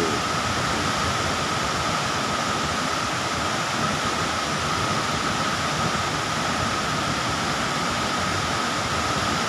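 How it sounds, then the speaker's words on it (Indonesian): The Curug Cipendok waterfall gives a steady, loud, unbroken roar of falling water that does not change throughout. "tinggi air terjun atau curug Cipendok"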